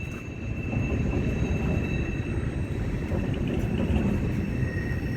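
Rumbling roar of trains passing nearby, a dense steady rush of wheels and engines with faint high squeals running through it.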